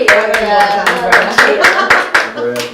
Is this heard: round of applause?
yes